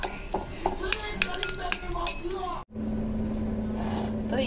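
Boiled, peeled tomatoes being mashed in a bowl: a utensil clinks and scrapes against the bowl in quick irregular strikes for a couple of seconds, then gives way to a steady low hum.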